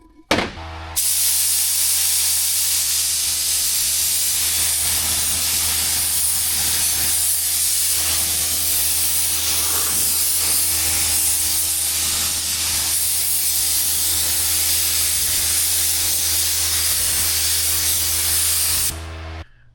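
Spray gun spraying paint mixed with reducer onto a 1972 Ford Courier, a loud continuous hiss that starts abruptly, holds steady for about eighteen seconds with slight variations, then stops.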